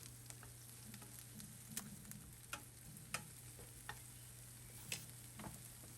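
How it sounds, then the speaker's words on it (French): An onion sautés quietly in a pan, giving a soft, steady sizzle with occasional small ticks and pops over a faint background hum. "et puis faire rissoler un oignon"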